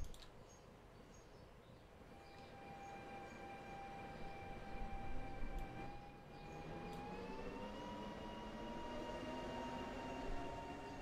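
A Trenord train runs along a railway in the Transport Fever 2 video game, a steady rolling rumble with sustained tonal whine lines that rise slightly in pitch midway, continuous and moderately near, with no talk over it.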